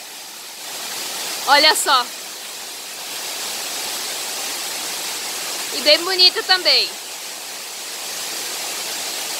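The São João waterfall in Chapada, Rio Grande do Sul, Brazil, low on water in the dry season, makes a steady broadband rush throughout, and a person speaks briefly over it twice.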